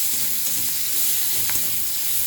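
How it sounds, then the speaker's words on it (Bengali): A whole onion frying in leftover fish-frying oil gives a steady, close sizzle with soft crackles throughout, no talking. "এই মাছ ভাজা তেলটার মধ্যে একটা গোটা পেঁয়াজ দেব। পেঁয়াজটাকে একটু ভাজা ভাজা করব।"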